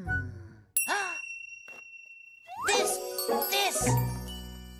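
Bright jingling bell tones ring out in short bursts, mixed with a voice and other chatter, fairly close and lively.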